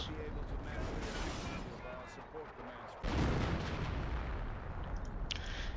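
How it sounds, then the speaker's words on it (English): Artillery shells pound a base in the real-time strategy game Company of Heroes, a dense wash of heavy booms and rumbling impacts that swells sharply midway, with a voice talking over parts of it. "I'm just kind of shelling his base"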